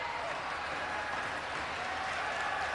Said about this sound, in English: Huge round of applause for the Laotians and the Cambodians who are coming home.